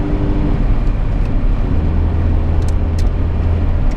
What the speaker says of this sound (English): the 2-liter engine is enough to make it go really easy without any effort on low RPMs for a petrol